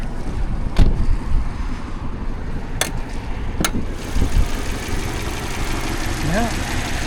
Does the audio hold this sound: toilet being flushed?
no